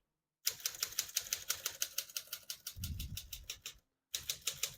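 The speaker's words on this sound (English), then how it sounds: "It's very high pitched and almost quiet compared to a lot of typewriters." Rapid, steady keystrokes on a 1945 Smith-Corona portable typewriter, bright and fairly light, with a heavier carriage-like thump near the middle and a brief pause before typing resumes.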